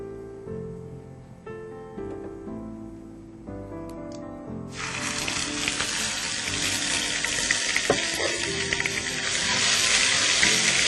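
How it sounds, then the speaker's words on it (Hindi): Garlic ginger paste hits hot oil with light-brown cumin and bursts into a loud, steady sizzle that continues to the end. "जब जीरा लाइट ब्राउन हो जाए तो उसमें लहसुन अदरक का पेस्ट डालना है।"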